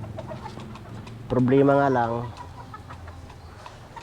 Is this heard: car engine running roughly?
no